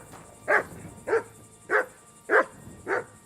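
A dog in the medieval video game Kingdom Come Deliverance 2 barks five times at an even, steady pace, each bark short and clear against a quiet background.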